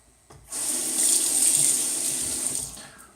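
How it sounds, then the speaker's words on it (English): Water runs from a tap in a barbershop for about two seconds, a steady close hiss that starts abruptly and tails off. "I'll do a quick rinse and then I'll be back for the pickups."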